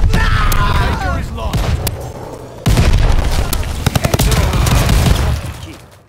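A grenade blast in the Call of Duty Vanguard shooter booms loud and close, with a heavy low rumble and bursts of gunfire around it, then fades out at the end.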